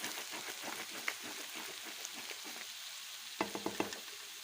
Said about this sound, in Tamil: இப்போ நல்லா கிளறி விடுங்க.